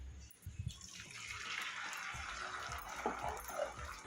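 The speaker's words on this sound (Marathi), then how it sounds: "गरम करून घेतलेलं दूध घालू।" Heated milk pours into a pan of ground rice and toasted grated coconut for kheer, a soft rushing liquid stream that starts after a brief clatter and carries on fairly quietly, with a few light clinks near the end.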